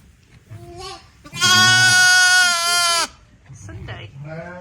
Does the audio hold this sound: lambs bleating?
yes